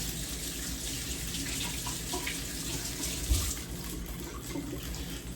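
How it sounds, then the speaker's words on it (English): Hands are washed under a running tap, with a continuous close splash of water pouring into a sink that stays steady throughout. "Let me wash my hands."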